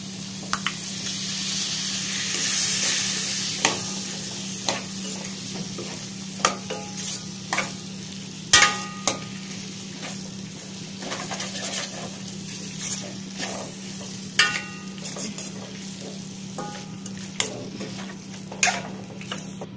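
Tomatoes for tomato rice sizzle in a hot pan while a spoon repeatedly scrapes and clacks against the metal, the stirring strokes coming in irregular bursts over a continuous frying hiss.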